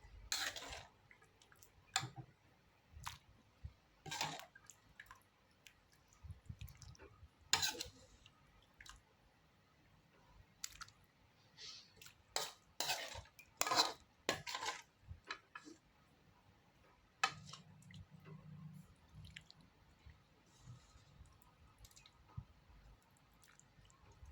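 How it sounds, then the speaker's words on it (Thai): Pumpkin and pork coconut curry is ladled into bowls, with scattered soft clinks of a ladle against dishes and faint wet squishing, quiet and intermittent over a low background. "เดี๋ยวเรามาเตรียมตักใส่ถ้วยกันเลยค่ะ"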